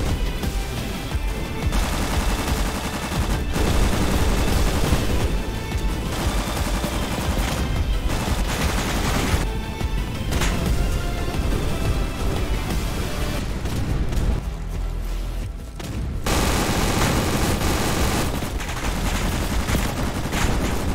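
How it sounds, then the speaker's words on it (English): Dense, sustained battlefield gunfire and booming artillery blasts in a Roblox combat game, loud and continuous with overlapping bursts and only brief lulls. "Artillery right there."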